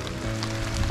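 Steady, dense rain patters on water and surfaces around a shallow-water bass fishing spot, a continuous hiss for under a second with no voices.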